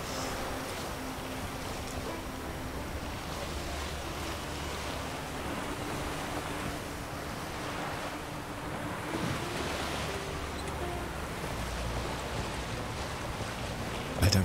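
Sea waves wash and roll around a small boat being sailed in The Witcher 3, a steady broad surf roar with wind, continuous and moderately loud, with a brief thump at the very end.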